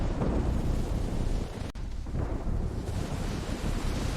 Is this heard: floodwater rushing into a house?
yes